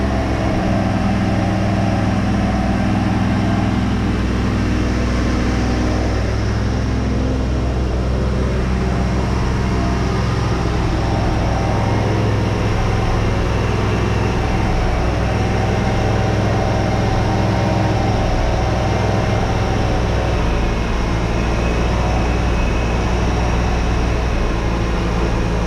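Engine of a 1983 Mustang GLX convertible running steadily, a loud continuous rumbling drone with a low throb that holds even throughout, no voices.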